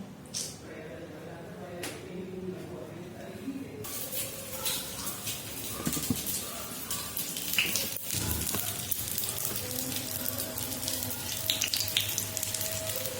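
Eggs and potatoes fry in a little oil, a continuous crackling sizzle with scattered pops and a few sharper clicks, moderately close and steady throughout.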